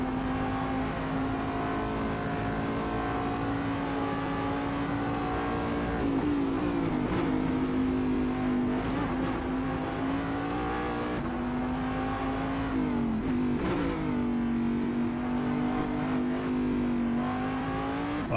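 A car engine from the IER car pack in the racing sim Assetto Corsa drones steadily, with the pitch rising and dipping as it revs and shifts through gears, loud and continuous with no talk.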